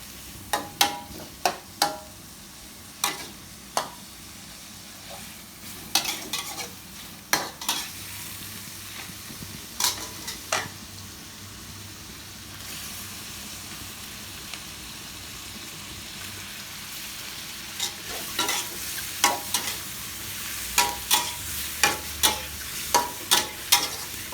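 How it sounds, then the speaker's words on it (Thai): Mushrooms and shrimp stir-fried in a pan, a steady soft sizzle underneath repeated sharp scraping and clacking strokes of a spatula, clustered in bursts with a quieter stretch in the middle. "ผัดเห็ดผัดกุ้งผัดเห็ดกระป๋อง"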